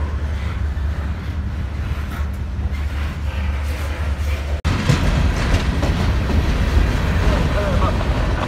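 A CSX freight train of loaded and empty cars rolls past on the Clinchfield line, a steady close rumble that jumps louder midway, with rhythmic wheel clatter and a low diesel drone underneath.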